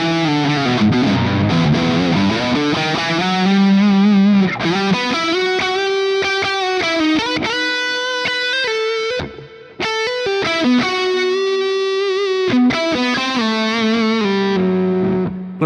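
Distorted electric guitar through a Soldano SLO pedal plays a sustained lead line with lush reverb and echoing delay, loud and continuous with a brief pause midway.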